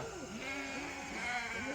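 Lambs, among Suffolk and Dorset sheep, bleat in wavering cries while being let out toward a paddock, several overlapping calls close by over steady background noise.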